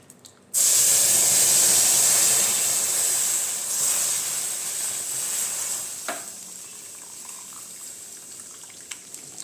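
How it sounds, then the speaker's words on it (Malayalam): Milk, about one and a half litres, poured into a hot pan of roasted vermicelli for semiya payasam, a sudden loud hissing sizzle that slowly settles into a steady bubbling simmer with a clunk near the end. "ഒന്നര ലിറ്റർ പാൽ ഇതിലേക്ക് ഒഴിച്ചു കൊടുക്കുകയാണ്"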